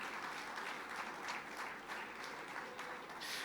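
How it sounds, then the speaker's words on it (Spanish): Faint, steady applause of praise from a church congregation, even rapid clapping continuing throughout with no clear voices. "Fuerte ese aplauso de alabanza al Señor."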